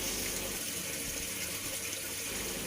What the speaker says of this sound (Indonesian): Ini adalah pipa-pipa pembuangan dari sistem tingkat pertama dan sistem pembuangan tingkat kedua, yaitu kembali kepada tandon airnya masing-masing.